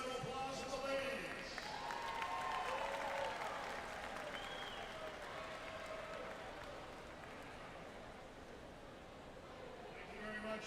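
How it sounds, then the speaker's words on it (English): Audience applause fills the venue at a high school state swimming championship finals session, steady clapping from a large crowd lasting throughout, with a voice over the PA faintly mixed in. "One last round of applause for the ladies."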